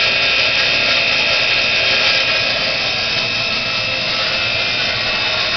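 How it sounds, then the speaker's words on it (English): A homemade air compressor with a small tank runs loud and continuous, a dense broadband mechanical roar with a steady high whine and rapid check-valve chatter underneath, unbroken throughout. "The only noise you really hear is the check valve."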